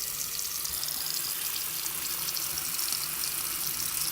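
Makeup brushes rinsed under a steadily running tap, a continuous bright hiss and splash of water with no pauses, close and moderately loud.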